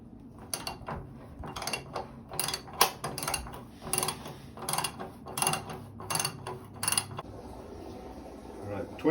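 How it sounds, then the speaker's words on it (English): A ratchet turning a 1.5 inch socket to remove the heating element from a Rheem water heater, giving a series of close, sharp clicking bursts in irregular groups over a low background. "I'm going to get a ratchet for it and remove it"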